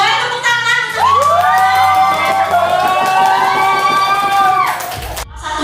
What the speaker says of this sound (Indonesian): Boleh tepuk tangan untuk itu.